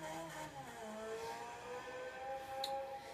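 A Ferrari 458 engine in the racing game Forza Motorsport 6 revs and climbs through the gears with rising, shifting tones, sounding steady and moderately loud with no talking.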